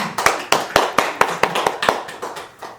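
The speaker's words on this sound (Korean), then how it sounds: "자, 박수 한번 치자" A lone pair of hands claps about a dozen times in a steady, even rhythm, sharp and close, during a Sunday Buddhist dharma talk, with no voices over the claps.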